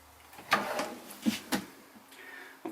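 Drawers in a luxury Carthago Liner motorhome slide open and shut, giving several close, soft thumps and sliding rumbles spread over a couple of seconds, with no voices.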